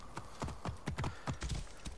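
Horse hooves in the video game Assassin's Creed Origins, clip-clopping at a steady walking pace, with close, distinct thuds on a hard surface and no other sounds.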